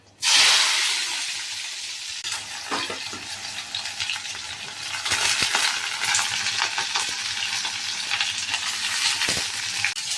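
Green and dried chillies crackle and sizzle in hot oil in a pan, a steady close frying hiss with an initial burst of spitting and occasional sharp pops and stirring clinks, no talking.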